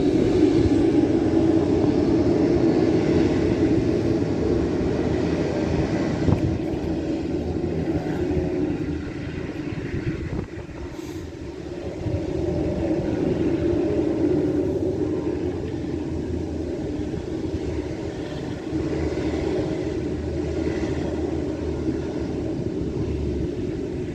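Yellow Basler propeller airplane, a loud continuous engine drone and rumble lasting throughout, dipping slightly midway, with no talking.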